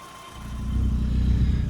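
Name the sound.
tuned classic car driving off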